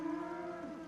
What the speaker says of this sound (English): As you can see, there's a lot of cows here